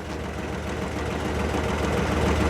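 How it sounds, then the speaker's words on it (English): A tractor engine sits at idle, a steady low chugging rumble with a faint rhythmic knock, fairly close and alone. "That tractor's just in idle, so it won't take much to do that."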